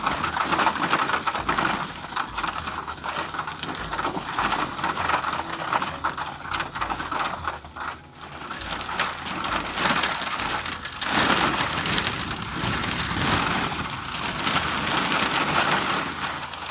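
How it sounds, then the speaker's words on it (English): Steady rain pours on a hiking trail, a dense continuous patter that stays loud throughout, with faint bird calls possible beneath it and no speech. "I get here and it starts raining."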